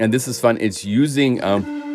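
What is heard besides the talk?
No everyday noise stands out behind the speech.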